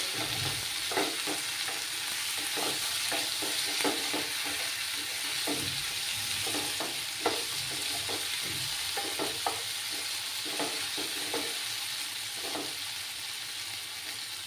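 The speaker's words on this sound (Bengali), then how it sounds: "দিয়ে আবার ভালো করে আদা রসুনের কাঁচা গন্ধটা না যাওয়া অবধি আমাকে কষিয়ে নিতে হবে।" Ginger-garlic paste sautéing in a pan for an egg and potato dish, a continuous sizzle broken by repeated scraping strokes of a spatula, close and steady with no voices.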